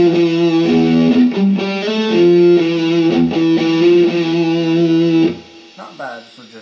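Distorted electric guitar chords through stock distortion settings of the Amplitube 2 iPhone app ring out steadily, loud and sustained, then cut off near the end leaving a few quieter plucked notes.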